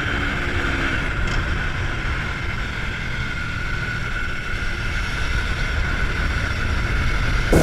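A 2016 Aprilia Tuono 1100 V4 Factory engine in track mode drones steadily and loudly, building slightly toward the end, with no voices present.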